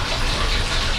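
Lemon juice gushes out in one brief, loud, steady pour while a Thai pumpkin-and-egg dessert is being made in a home kitchen.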